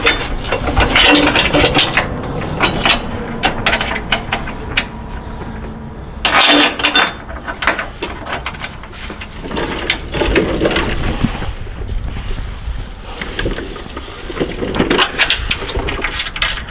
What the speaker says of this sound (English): So let's get all these bolts in and get them tightened up real quick.